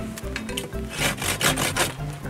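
Hand saw cutting water sprouts off an apple tree, rough rasping strokes on wood, slow at first, then quicker and louder back-and-forth passes, close up with no talking.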